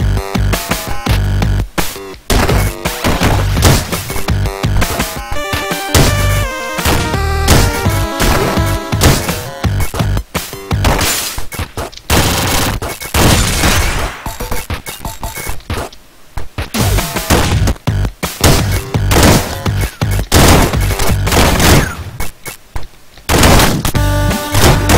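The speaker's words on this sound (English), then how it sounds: "Shotgun." Shotgun blasts in the retro arcade game Downwell rattle out in dense, loud, crunchy bursts with glitchy chiptune music and impact effects, continuing almost without a break for the whole stretch.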